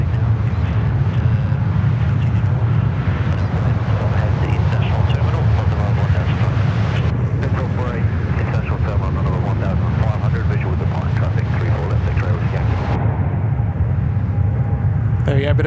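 A plane lands on the right runway at Sydney Airport, its loud engine roar and rumble dominating throughout, with a voice talking over it.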